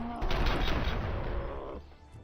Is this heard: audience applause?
no